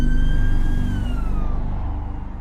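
Ambulance siren wailing nearby, a loud tone that sweeps and then slides downward as the vehicle passes, its engine rumbling underneath, with no voices.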